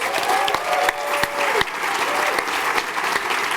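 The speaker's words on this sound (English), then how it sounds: "Let's give them another round of applause." A round of applause from the audience at a youth sports awards panel, loud and dense with a few sharper individual claps standing out, continuous for the whole stretch.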